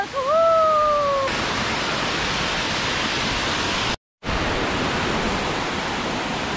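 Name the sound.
Bicayan Falls waterfall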